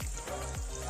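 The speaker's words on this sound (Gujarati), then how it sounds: "ઉડે તો ખરી મમ્મી, તેલ તો ઉડે." Hot oil sputters and crackles around french fries frying in a pan, a steady close sizzle with a few small pops over a brief moment.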